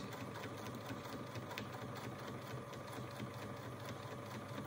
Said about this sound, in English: I'm going to sew this line